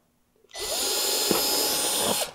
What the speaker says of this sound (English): And I'm going to drill another again.